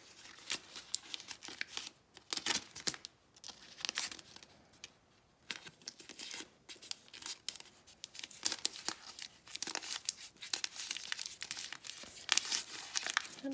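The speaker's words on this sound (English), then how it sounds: "Get some tape. Now my tape is sticking." Adhesive tape is pulled and wrapped around a handmade tool in repeated crinkling, tearing bursts, close and fairly quiet, with brief pauses between pulls.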